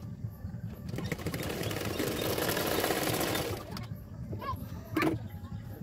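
A sewing machine stitches the shoulder seam of a blouse in a close, rapid whirring burst of about three seconds, then stops. Light handling noises follow.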